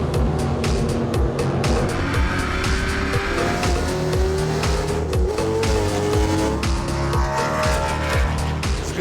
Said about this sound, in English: Good lap there, Roddey